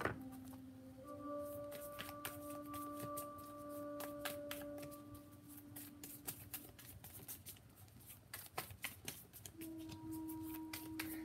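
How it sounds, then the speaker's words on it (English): Tarot cards being shuffled by hand, a run of light papery riffles and taps that sit behind steady tonal background hum, with no talking. "We're still shuffling for Scorpio."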